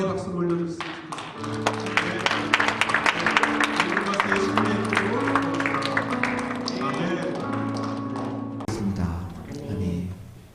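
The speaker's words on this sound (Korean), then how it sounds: "한번 영광의 박수를 올려드렸습니다." A church congregation applauds together in praise after a prayer, many hands clapping in a sustained, fairly loud burst over a sustained musical backing, then fading.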